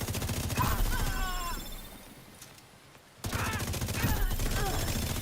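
Fast, rapid-fire automatic gunfire from high-RPM weapons in The Division crackles loudly in dense bursts, drops away into a brief lull, then resumes just as heavily.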